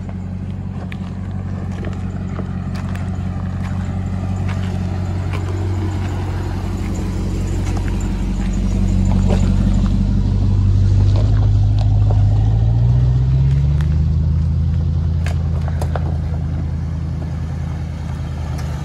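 A Ram TRX truck rumbles along a Mojave Desert trail, its engine drone steady and close, swelling briefly as it revs and labours, with faint clatter from the rough ground.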